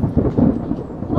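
Thunder and rain near a beach outing, with a loud low rumble of thunder rolling over steady rainfall.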